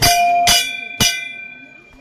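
A metal temple bell struck three times about half a second apart, each ring clear and close with a sustained tone decaying between strikes.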